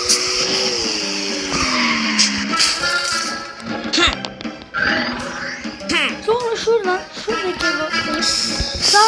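A motorbike in the Super Bear Adventure video game rides along and skids, with loud engine whine and screeching tire skids that rise and fall throughout, mixed with busy game effects.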